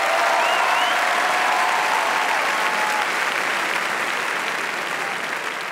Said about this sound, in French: Je vais vous redemander d'applaudir Marlène Schiappa qui a accepté de venir ce soir nous voir.